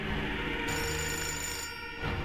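A telephone rings in the video game Fahrenheit: Indigo Prophecy, a loud, steady electronic ring filling the whole moment with no talk over it.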